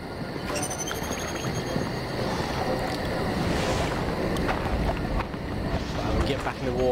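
Water in the horror game Outlast 2, a dense steady rush and wash like waves and wind, loud and continuous throughout.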